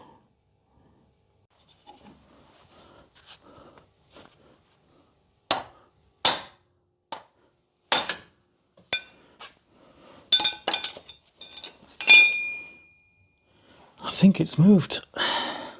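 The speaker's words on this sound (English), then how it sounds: "So I've got this big pry bar here and my big hammer, and I'm basically going to give it a bit of a whack" Hammer and pry bar strike a brake accumulator sphere on a Rolls-Royce Silver Spirit III, giving a series of sharp metallic clinks and knocks in irregular bursts, close by, with someone speaking briefly between blows.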